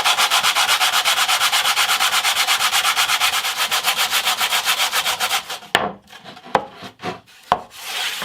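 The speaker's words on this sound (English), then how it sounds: "Just going to sand off the bottom to get the contour of the top of the guitar." A wooden guitar bridge sanded on its underside, rapid rhythmic back-and-forth rasping strokes, close and loud, then a few scattered knocks and scrapes.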